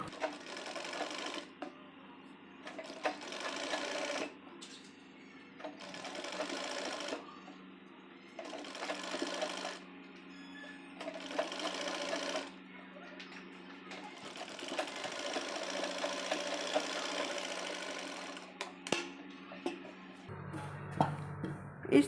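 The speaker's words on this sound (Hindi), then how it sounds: "यहाँ सीधी सिलाई लगा देंगे।" A sewing machine stitches straight seams on a baby frock for a one-year-old, running in repeated bursts of a few seconds each with short quiet pauses between, fairly close but at moderate volume.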